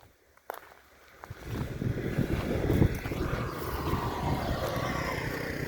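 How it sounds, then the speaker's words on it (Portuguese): A strong headwind on the road to Tupiza, Bolivia buffets the microphone in a low, gusty rumble that builds after the first second and stays rough and steady, with no talk. "Hoje o vento tá contra."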